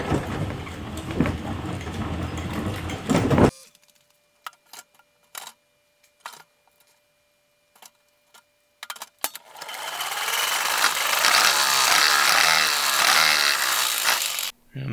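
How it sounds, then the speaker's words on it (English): A honey extractor spinning beehive frames, first a whirring mechanical run, then near silence with scattered clicks and knocks, then a loud rising whir with a rhythmic pulsing as it spins up again. "I put the frames into the extractor"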